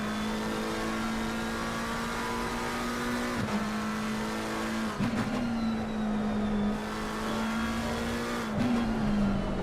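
A race car engine in a sim racing game at Suzuka, chasing a Lamborghini, drones loud and steady throughout, with brief dips and shifts in pitch at a few gear changes before climbing again.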